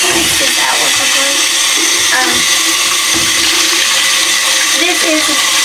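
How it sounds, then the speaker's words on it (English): Running water rinses out the body of a UWANT D100 wet/dry vacuum, a loud continuous gushing and splashing close up with a few sharper sloshes and bumps throughout. "I'm just gonna rinse this out real quickly."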